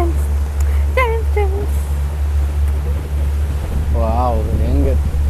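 On a crocodile cave outing, a private boat's engine hums steadily at low pitch beside the splash of water, with short bursts of a voice on top.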